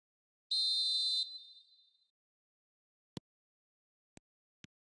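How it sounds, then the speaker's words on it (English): A single sharp referee's whistle blast in an eFootball match lasts about a second and then trails off. A few faint clicks follow in otherwise near silence. "There's the whistle."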